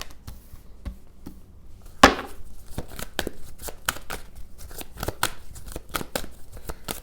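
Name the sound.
shuffling tarot cards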